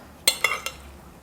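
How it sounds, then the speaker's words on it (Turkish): A utensil stirring tuna salad in a bowl gives three quick, bright clinks of metal against the dish, close and clear over a quiet background. "Karıştırıyorum."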